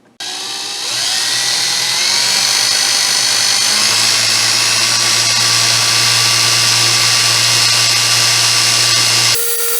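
A variable speed power drill, used to twist wire for a haystack vape coil, spins up and runs at a high, steady whine for several seconds, loud and close, then cuts off abruptly.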